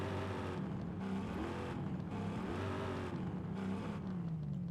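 A drift-built car's engine in Forza Horizon 5, fitted with an exhaust, revs and drones continuously with rising and falling pitch, steady and fairly loud with no talk over it.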